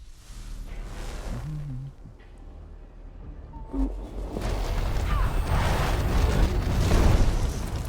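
A fire spell igniting in the fantasy role-playing game Divinity Original Sin 2, heard as a swelling whooshing burst of flame that builds into a steady roaring crackle after a quieter, sparse opening.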